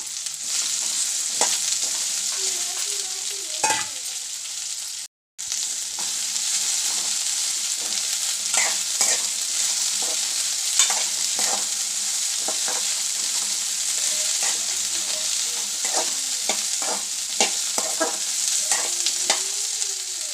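Okra (bhindi) frying in oil in a pan, with a continuous bright sizzle and frequent spatula stirs and clicks up close. A brief dropout breaks the sound around the fifth second, and no one speaks.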